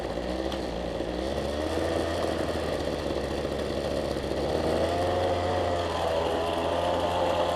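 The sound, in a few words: Toro weedeater engine running after carburetor kit install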